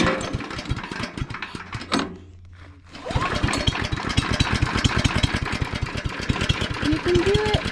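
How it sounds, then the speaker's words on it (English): A small wood chipper engine chugs in a fast, even rhythm, pauses for about a second of near quiet, then is cranked and catches again, running steadily and close by with a person talking over it. "So we need to make sure we turn the gas on, have the choke down, machines on, and then we're gonna crank it."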